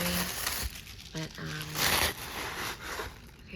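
Paper crinkling and rustling while unpacking a piece of happy mail from a friend, in short irregular bursts of crackle, with someone talking over and between them.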